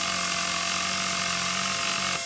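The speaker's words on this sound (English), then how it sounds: "That's a power tool you've got there. Hold on to it. You can use it to fix any broken vehicle." Mechanical power-tool whir from vehicle repair in the video game Battlefield: Bad Company, a steady buzzing drone held close and loud throughout, cutting off near the end.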